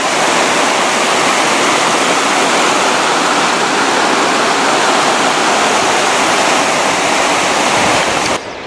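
High river water rushing through a gorge at Scotton Mill, a loud, steady broadband roar that continues unbroken for several seconds before dropping away abruptly at the end.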